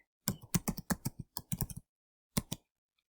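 Rapid keystrokes on a computer keyboard come in a close burst of about a dozen clicks, then a pause and two final taps, with no talk.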